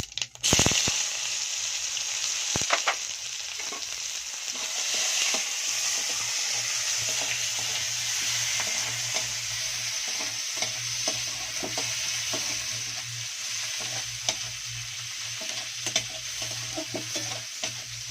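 Chopped onion and whole cumin frying in mustard oil in a kadai, a loud, continuous close-up sizzle broken by sharp stirring scrapes, with no one talking.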